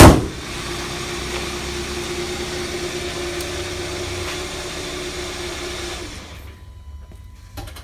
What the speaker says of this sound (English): Go ahead and shut the car off now